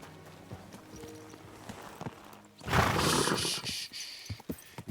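A horse in the video game Kingdom Come: Deliverance II whinnies and its hooves clip-clop, with sparse thuds early on and a louder burst of hoof and movement noise in the second half.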